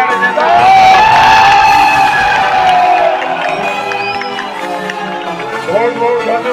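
A political rally crowd in Balangir cheers and whoops loudly, with shouting voices and a sustained roar that swells early and then eases slightly, voices prominent throughout.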